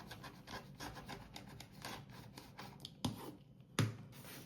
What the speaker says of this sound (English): I'm just gonna put my little jig right there in the corner, and it makes it super easy to trim those corners